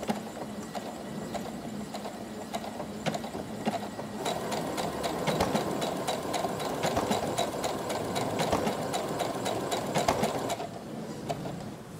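A sewing machine stitching fabric with invisible thread around the edge of a dollhouse quilt block piece, a close, steady rapid needle chatter that speeds up and grows louder midway, then eases back.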